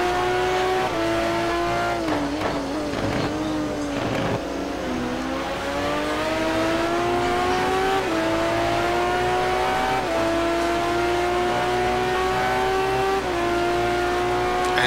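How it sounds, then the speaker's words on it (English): GT1 race car at Road America, engine loud and close, pitch dropping in stepped downshifts into third gear, then climbing steadily with each gear under acceleration. "Marty quickly dropping it 3 gears into 3rd."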